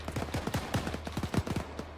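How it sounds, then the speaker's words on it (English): Bursts of automatic gunfire in Arma 3, a rapid sequence of sharp, loud shots with some echo, fired in uneven clusters at moderate distance. "He's firing around, trying to hit people."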